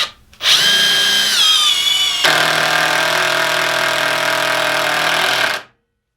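Kobalt impact driver on setting 2 driving a screw, a loud close whine that rises, then shifts into a dense rattling impact hammering for about three seconds before stopping abruptly.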